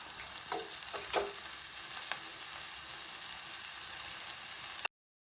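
Tapioca snack pieces sizzle as they drop into hot coconut oil, with a steady close frying crackle and a few sharp splashes and pops near the start before the sound cuts off.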